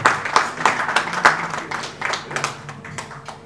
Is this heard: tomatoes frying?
no